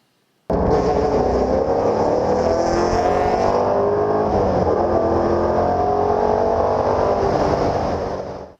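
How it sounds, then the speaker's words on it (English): A Mazda Miata racing on track, its engine starting abruptly and holding a loud, sustained drone that climbs in pitch and then fades slightly at the end, with no talk. "let's take a quick look at the Miata on track because it is brilliant"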